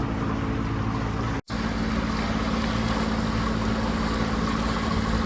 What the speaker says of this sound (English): Nice New Zealand boat going by there